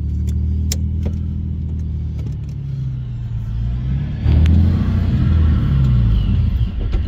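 Inside a Procharger-supercharged 3.7L V6 Mustang on a street pull, a deep engine rumble with a faint jangle of keys rises into a louder surge of revving partway through and stays heavy and close.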